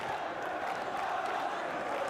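Steady crowd roar and cheering at a live EA Sports FC 24 esports playoff event, a dense continuous wash of voices and shouts with no pauses, filling the whole clip.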